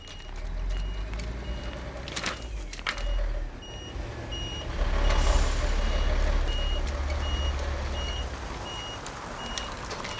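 Municipal garbage truck moving through a city street: a steady engine rumble with a reversing beep repeating over it and louder passing noise midway, no speech.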